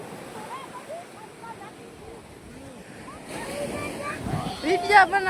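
Sea waves washing onto a beach, a rushing surf with wind buffeting the microphone that swells louder toward the end, with faint voices in the background.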